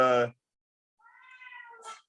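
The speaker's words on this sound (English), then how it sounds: "sorry, my cat." A house cat gives a drawn-out, rising meow that ends in a short upward squeak, close and clear in a quiet room, just after a brief burst of talk.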